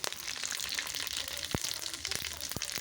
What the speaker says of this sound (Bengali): সব কুমড়ো, ফুলকপি, বাঁধাকপি সব একসঙ্গে ভেজে নিচ্ছে।